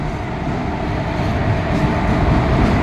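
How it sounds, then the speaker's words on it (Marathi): Low, steady rumble of the Panvel–Nanded train rolling into Parbhani station, growing slightly louder over a few seconds, with a dense mechanical roar and no clear voices. "ट्रेन वेळेपेक्षा लवकर आलेली आहे"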